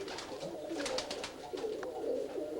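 A pigeon coos softly and close by, a low burbling call repeated over a couple of seconds amid faint background noise in a loft of red model birds.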